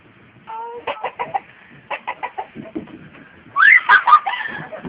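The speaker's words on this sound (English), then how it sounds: "Looks like the chickens are back." Chickens cluck by a riverbank in a quick, uneven run of short calls that grows louder and busier near the end, with one sharper squawk.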